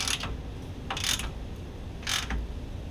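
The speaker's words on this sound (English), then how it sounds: "now I'll take the 14 millimeter, now that that's tight, and I'll tighten this rear up" Ratchet wrench tightening a 14 millimeter bolt on a shock skid mount of a Colorado ZR2, giving three separate bursts of clicking, close and fairly loud over steady low background noise, with no talk.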